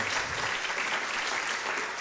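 A steady, dense wash of applause from a church audience, even and unbroken throughout, with no pauses or voices standing out.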